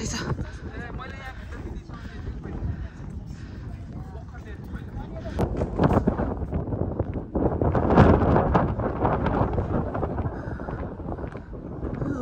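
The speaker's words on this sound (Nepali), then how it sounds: "यहाँको हावा त खतरै छ" Strong wind at Dhumba Lake near Jomsom buffets the microphone in a continuous, roaring rush that swells louder midway, with voices talking underneath.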